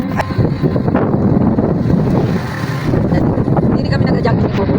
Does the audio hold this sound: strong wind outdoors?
yes